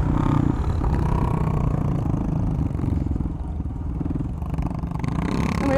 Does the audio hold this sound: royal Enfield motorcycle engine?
yes